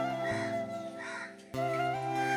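A crow caws repeatedly outdoors near a spot where it hangs around young birds, harsh calls sounding close and clear with a steady hum in the background.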